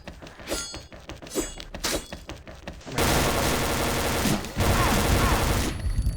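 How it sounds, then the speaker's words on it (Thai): Gunfire in the video game XSHOT: irregular game shots under a player's talk at first, then a dense, loud sustained burst of rapid fire filling the second half with a brief dip near the middle. "ทำไมเขายิงเขายิงสวนมาแรงมากเลยวะ"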